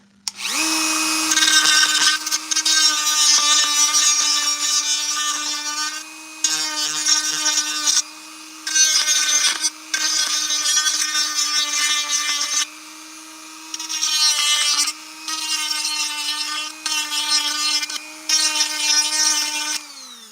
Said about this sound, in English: So a Dremel with a cutting edge.